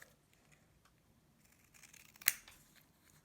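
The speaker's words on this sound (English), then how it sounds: "I'm just going to cut it out." Scissors cut out a piece of paper for a watercolor journal page: one sharp, crisp snip over faint rustling in a quiet room.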